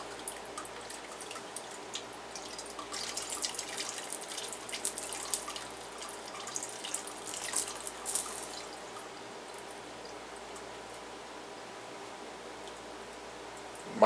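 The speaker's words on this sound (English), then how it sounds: "Just pouring all this material through this filter." Liquid beef tallow, rendered by the wet method, is poured through a four-layer filter, giving a faint continuous trickle and drip that swells a little midway, then eases back into a quiet hiss.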